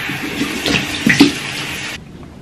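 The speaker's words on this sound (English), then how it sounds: "So now you're gonna want to wash with lukewarm water." Water runs steadily from a tap into a sink for face washing, a close, bright rush with a few splashes and gurgles, cutting off abruptly near the end.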